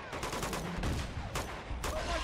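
Gunfire in Uncharted 2: Among Thieves, several sharp bursts of automatic shots at moderate volume, with a few louder cracks spaced across the clip.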